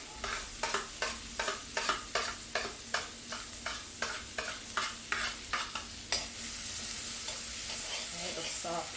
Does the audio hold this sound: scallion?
yes